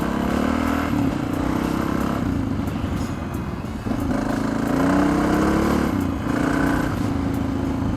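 A Honda XR650R motorcycle engine drones steadily and loudly while riding, with small rises and dips in revs over continuous wind and road noise.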